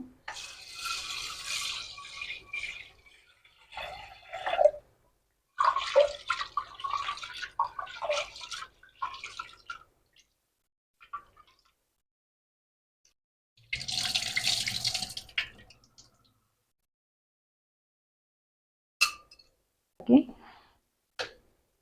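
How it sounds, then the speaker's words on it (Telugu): A kitchen tap runs in bursts while toor dal is rinsed in a pot, water splashing and trickling with pauses between, and a person speaks intermittently. "కందిపప్పు క్లీన్ చేస్తున్నాను"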